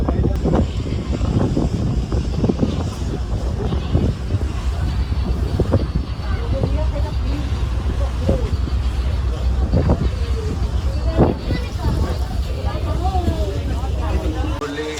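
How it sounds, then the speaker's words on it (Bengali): A passenger launch sets off toward Dhaka from Bhola, its engine a deep, continuous rumble beneath wind noise and crowd babble, with people talking nearby. "মাত্র লঞ্চ ঢাকার উদ্দেশ্যে রওনা হলো"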